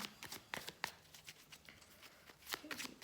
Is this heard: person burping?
no